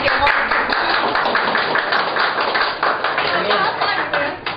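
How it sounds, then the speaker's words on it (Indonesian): An audience claps for a man at a corporate social responsibility event marking Indonesian Independence Day, with dense, steady applause from a sizable crowd filling the room and fading slightly toward the end. "Tepuk tangan dong buat Bapak nih yang udah mulai dari sekarang"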